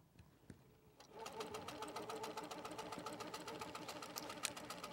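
An HQ Pro-Stitcher quilting machine stitches a flower petal. After a second of near quiet, the motor starts up into a fast, even mechanical chatter that runs steadily to the end.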